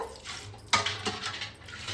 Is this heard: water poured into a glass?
yes